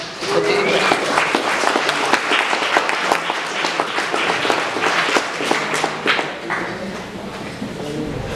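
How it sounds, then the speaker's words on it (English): Crowd at a Standing Rock solidarity rally in Madison applauding, loud, close clapping with distinct individual claps, sustained for about eight seconds before fading slightly. "So if we can give her a round of applause"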